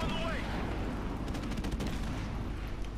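Video game gunfire in Call of Duty: Modern Warfare Remastered, a dense burst of rapid automatic shots and crackling reports over a continuous loud game mix, lasting a few seconds without talk.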